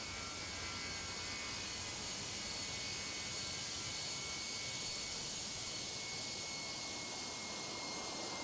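Steady high-pitched whine and roar of a jet engine on an Alaska Boeing 737-900 in an air traffic control game, continuous and even throughout, with no talk.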